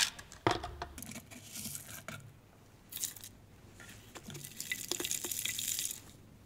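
Water is poured into a bottle holding sodium hydroxide flakes, giving splashy, gurgling bursts with small clinks and a brief sharp knock at the start, fairly quiet and close, with no voices.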